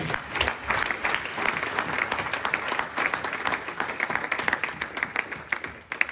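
A church congregation claps and applauds steadily, a dense, sustained crowd applause at close range that fades slightly toward the end, with faint voices mixed in.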